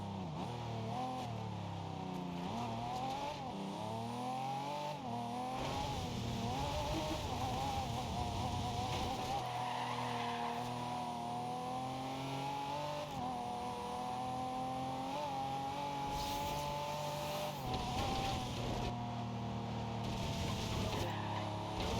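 Racing cars roar through Forza Horizon 2, a steady high engine whine with pitch sweeping up and down as the car accelerates and shifts, continuous and loud throughout.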